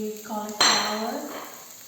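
Guanciale browning in a pan for cauliflower carbonara: a sharp metallic clink of a utensil, then a close, steady sizzle that slowly fades.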